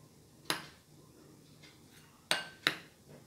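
A spoon stirs batter in a bowl, striking the rim in three sharp, bright clinks: one alone, then two close together, with quiet pauses between.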